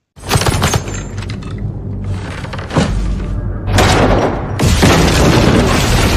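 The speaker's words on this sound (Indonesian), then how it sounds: "jebakan yang membuat tempat tersebut meledak" A loud explosion bursts suddenly, followed by rumbling, crashing debris and shattering, with further heavy blasts swelling in waves.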